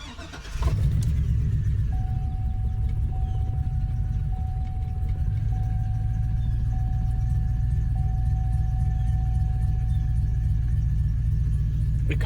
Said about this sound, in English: It kind of sounds like it's running better.